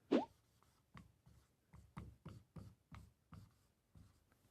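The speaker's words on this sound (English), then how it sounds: "I'll just write it down." A pen scratching out notes on paper in a series of short, separate strokes with brief pauses between them, close and quiet, with no talking.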